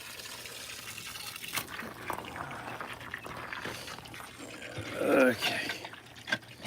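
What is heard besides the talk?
water spraying from a hose under pressure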